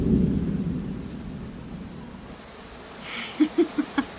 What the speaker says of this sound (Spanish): Se acerca la tormenta.